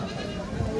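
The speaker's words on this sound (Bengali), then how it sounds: "আচ্ছা, এগুলো কি আপনার বাড়ির ছাগল?" Goats bleating at a rural livestock market in northern Bengal, where breeds such as Totapuri and Jamunapari are traded, heard as a brief, faint bleat under the low murmur of the surrounding crowd.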